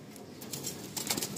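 Madrasi pigeon cooing softly while a brief burst of flapping wings rises near the end, close and fairly quiet.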